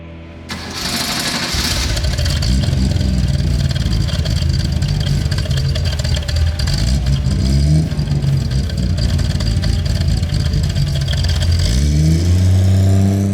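Holden Torana LC GTR XU-1 engine cranking into life, then a loud close rumble that swells as it revs and accelerates, staying strong and steady throughout with no talk over it.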